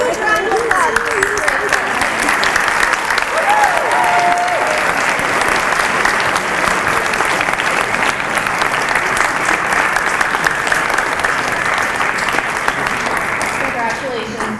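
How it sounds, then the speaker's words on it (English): A crowd at Concord High School's Poetry Out Loud contest cheers the winner with long, loud, unbroken applause, a steady wash of clapping with scattered cheers and crowd chatter woven through it. "A huge round of applause."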